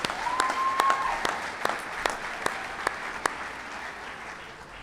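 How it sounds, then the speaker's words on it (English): A crowd claps steadily at an outdoor awards event, with sustained applause under a brief whistle and scattered louder individual claps standing out as the clapping gradually thins. "Give Ryan a big applause."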